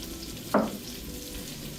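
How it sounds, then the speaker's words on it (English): Shallots drop into a hot pan for a ramen bowl, setting off a short bright sizzle burst over a steady low frying hiss. "And then we're gonna put the shallots in."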